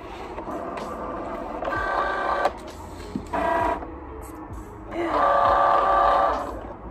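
A Cricut Joy cutting machine loads material with three short mechanical whirring bursts separated by pauses, the last one longest and loudest, close by with no talking.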